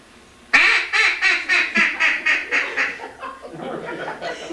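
Ducks flying in during a dawn waterfowl hunt give a loud, close run of about a dozen rhythmic quacks, then softer, scattered calls trailing off.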